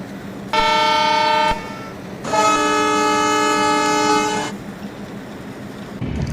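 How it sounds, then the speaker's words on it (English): Two long, loud blasts from a diesel locomotive horn in Indian Railways Train Simulator as the train pulls into Charlapalli platform 2, with steady rumbling engine noise between and after them. "So right now our train just entering on at Charlapalli platform number 2"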